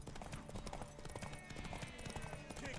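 Horse hooves galloping in The Witcher 3 video game race, a rapid, continuous clip-clop rhythm, near and even, with faint game noise behind it.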